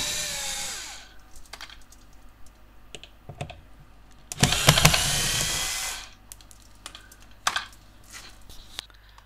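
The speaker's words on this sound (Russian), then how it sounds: "После того, как мы открутили все саморезы" Self-tapping screws come out of a Hyundai Sonata door panel under a short screwdriver, with small close clicks and taps, and then a louder burst of scraping and rattling before quieter clicks resume.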